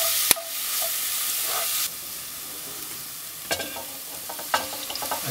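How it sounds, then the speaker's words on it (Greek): Veal sizzling with sugar and onion in a pot, a steady frying hiss with a brief clack at the start, then quieter crackles and stirring scrapes near the end. "Θα τσιγαρίσουμε λιγάκι το βελτέ μαζί"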